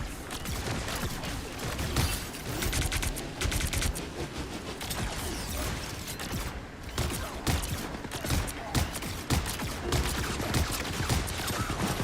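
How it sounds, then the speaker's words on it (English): Dense video-game gunfire rattles on and on as bursts of rapid shots and overlapping volleys, loud and close throughout. "Who is shooting me? Who is shooting me?"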